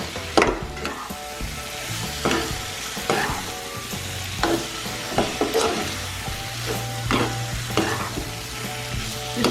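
Snake fish being fried and stirred in masala in a village kitchen: repeated wooden-spoon scrapes and rubs at an uneven rhythm over continuous sizzling oil, close and fairly loud, with a low hum underneath and no talking.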